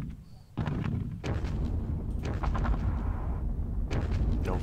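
A battery of six artillery guns fires in the Panzer Battles Kursk wargame: a sharp opening boom followed by several more heavy blasts over a sustained low rumble, loud and close, with a voice briefly talking over it.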